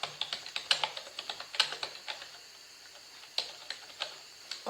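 Close, quiet tapping on a computer keyboard while someone designs a poster in Canva, coming in irregular bursts of clicks with short pauses between them.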